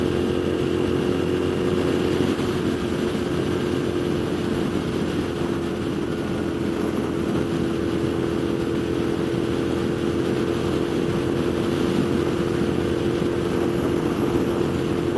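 A Moto Guzzi V7 mk2 750cc motorcycle cruises on a demo ride, its engine drone steady and close under constant wind rush, with no clear change in throttle.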